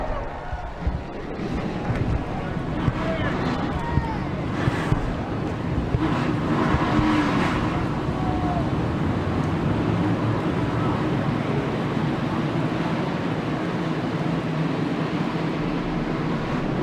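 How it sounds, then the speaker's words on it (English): Race car engines in the NASCAR Racing 2003 video game starting together at Yas Marina, a steady loud massed engine roar and rumble that holds throughout, with a brief voice near the start. "Drivers, start your engines!"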